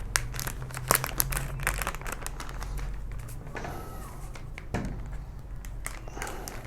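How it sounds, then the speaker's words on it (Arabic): A plastic bag is handled up close while a homemade blue cooling gel pack is made, giving a steady stream of soft crinkling and rustling with a few sharper crackles and no speech. "هنجيب بعد كده الكيس"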